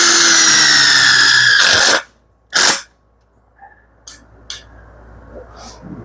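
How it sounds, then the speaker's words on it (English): Power drill driving a self-tapping screw into a steel plasma and fabrication table frame: a loud, whining burst of about two seconds, then a short second spurt and a few faint clicks. "This will get a self-tapper right here."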